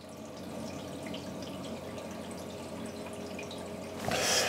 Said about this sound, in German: Ihr hört, hinten der Notüberlauf arbeitet.